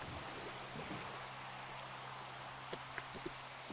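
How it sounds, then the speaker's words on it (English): Steady rain falls in a VR video game, a soft continuous patter with a few brief drip-like ticks near the end, fairly quiet and with no talking. "It's raining. The rain is really annoying."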